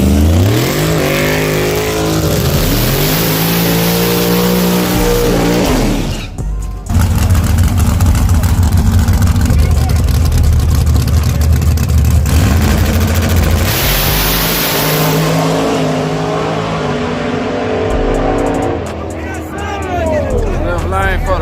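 Drag race cars accelerating at a Friday night South Carolina drag strip, loud rising engine roars sweeping up in pitch then a sustained blasting run, with spectators talking and shouting over it.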